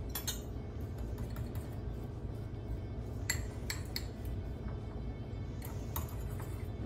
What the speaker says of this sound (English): And then we're gonna give that a good mix with a fork.